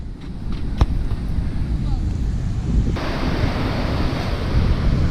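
Steady roar of surf at Varkala Beach with gusting wind buffeting the microphone, a continuous close wash of waves without clear breaks.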